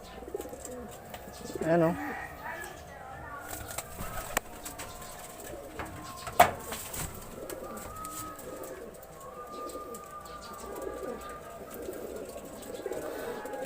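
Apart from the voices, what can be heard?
racing pigeons cooing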